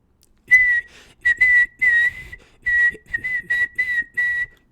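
Someone whistles a tune alone and close, in clear clean phrases with short pauses between them, with faint breathy noise underneath.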